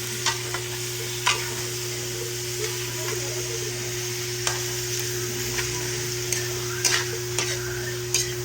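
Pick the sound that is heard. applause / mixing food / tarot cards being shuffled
mixing food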